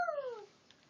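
A single short, high-pitched yip from a voice imitating a small dog, falling in pitch and fading quickly into quiet.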